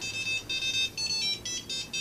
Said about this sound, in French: Téléphone au sonne.